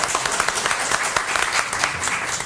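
A room at a Boynton Beach city commission meeting breaks into applause: dense, steady clapping from many people, fairly loud and close, continuing evenly for a couple of seconds with no talk over it.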